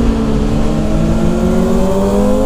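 A 2023 Kawasaki ZX400RR sport bike is heard close and loud under braking into a corner. The high-revving engine note holds steady while the pitch slowly drops as it downshifts, with no talk over it.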